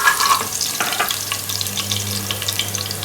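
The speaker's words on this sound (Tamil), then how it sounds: "இது எல்லாமே லைட்டாக தான் வதக்கிக்கணும்" Garlic and vegetables sautéing in a pan for fried rice, giving a steady close sizzle with a low hum underneath and a few soft scraping stirs, with no voices.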